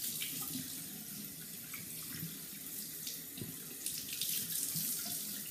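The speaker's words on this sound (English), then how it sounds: "just keep running the water on it." Tap water runs steadily into a sink over doll hair being rinsed of temporary dye, a constant close splashing stream with no speech.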